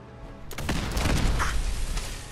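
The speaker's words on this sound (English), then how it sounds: "we reload, then we chuck a nade." A grenade bursts in the video game Fallout 4, one sudden loud boom followed by a rumbling, crackling tail that lingers for about two seconds.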